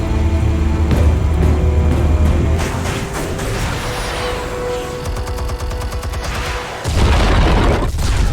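Explosives detonate in Batman: The Telltale Series, a dense, loud roar of booming blasts and crackling debris that rolls on continuously, with a fresh heavy burst near the end.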